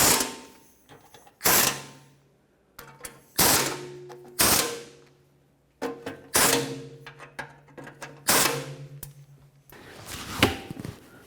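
A ratchet tightens the bolts on a 1997–2003 Ford F-150 idler arm, sharp repeated clicking strokes in bursts with brief pauses between, close and clear.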